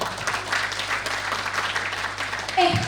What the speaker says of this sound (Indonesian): Boleh dong tepuk tangannya teman-teman.